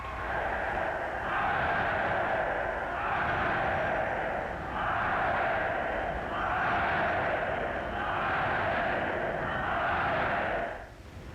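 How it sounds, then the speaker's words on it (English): A large crowd cheers at an event in Britain, a loud, sustained roar that swells and dips in waves before cutting off near the end. "Only 300 miles away, people were cheering another kind of event."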